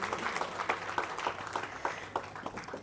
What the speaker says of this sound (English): A big round of applause for all our dignitaries.